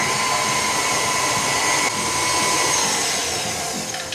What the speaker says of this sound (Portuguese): dos secos na batedeira. Vai devagar para não fazer uma nuvem de farinha na cozinha.